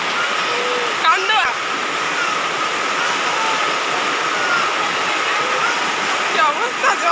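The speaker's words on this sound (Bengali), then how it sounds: "জল কি অবস্থা, জল পড়ে যাচ্ছে চারিদিকে।" Heavy rain pours down all around during a festival outing, a dense, steady wash of falling water that fills the scene, with faint bird-like chirps and brief voices breaking through now and then.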